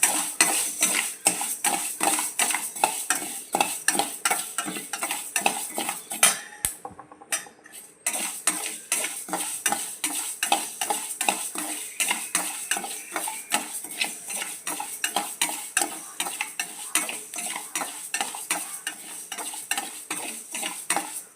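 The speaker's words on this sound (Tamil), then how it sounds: "உளுந்தை நல்லா வறுத்துக்கணும் உளுந்தை நல்லா வறுக்கணும்" Urad dal dry-roasting in a pan, stirred without pause: a dense, steady scraping rattle of the lentils, up close, with a brief pause around the seventh second.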